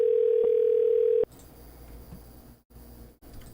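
A steady electronic telephone tone while a call is being placed, loud and continuous for about a second before it cuts off abruptly, followed by faint line noise and brief dropouts.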